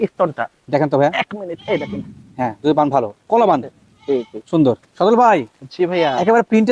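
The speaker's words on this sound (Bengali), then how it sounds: "বিটল জাতীয় ক্রস মেয়ে ছাগল মা ছাগল" Beetal cross female and mother goats at a farm goat sale in Natore bleat repeatedly in close, wavering calls, overlapping one another, with a brief spoken word among them.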